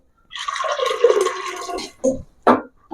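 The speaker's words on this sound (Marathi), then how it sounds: "अजून थोडं पाणी घालून घेते" Water is poured into cooked dal inside a pressure cooker, one close, gurgling pour of over a second followed by two short splashy top-ups, with quiet between them and no talking.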